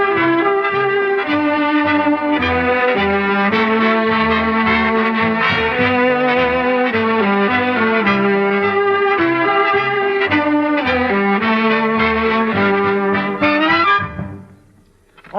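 A sustained orchestral passage dominated by loud, sweeping violins playing Swanee River, with brass playing Humoresque barely audible beneath, before fading out at the end.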